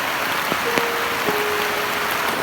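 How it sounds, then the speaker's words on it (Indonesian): Rain falling steadily around an outdoor coffee shelter in nature, a soft continuous hiss with a few louder drops, alone with no voices. "Jadi seperti inilah suasananya di shelter bila terjadi hujan."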